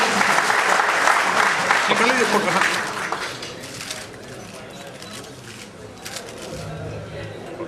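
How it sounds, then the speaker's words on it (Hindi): Loud applause breaks out at a state cabinet meeting, a strong burst of many hands that fades after a few seconds into room noise and speech. "जोरदार तालियां"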